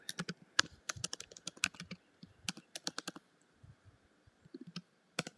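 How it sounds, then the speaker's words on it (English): Typing on a computer keyboard: quick bursts of close, crisp key clicks in uneven clusters, pausing briefly, then resuming with a few final taps; no talk. "I did all the typing"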